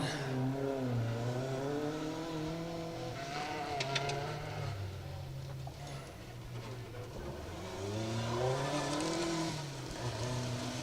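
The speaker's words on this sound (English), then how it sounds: "It's the Escort, the Fortis Island Limited sponsored car of Alan Young and Ashley Young, and they're certainly being caught." A Ford Escort two-wheel-drive rally car drives through a forest stage at the Woodpecker Stages Rally, its engine revving and dropping through gear changes, loud and continuous as it passes close by.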